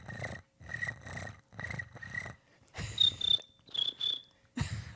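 A person's voice imitates crickets chirping, producing repeated short rhythmic chirps in bursts, close and alone without other sounds.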